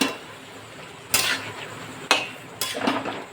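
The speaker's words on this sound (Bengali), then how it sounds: "এই যে নাড়তে থাকবো।" Chicken pieces stirred in a pan with a lemon chicken recipe underway, as three distinct bursts of scraping and clattering metal stand out over a quiet background, close by, with no talking.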